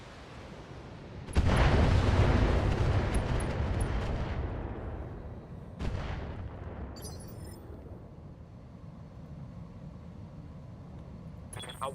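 Missile fire from mechs in a BattleTech video game mod battle, a heavy roaring salvo that erupts suddenly and rumbles on for seconds, then a second smaller blast, fading to a faint hum with a few distant electronic crackles.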